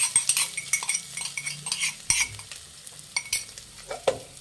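Crushed cumin, pepper and garlic are stirred in hot oil in a pan while making rasam, with quick scraping and clinking strokes over a soft sizzle, close up and without talk.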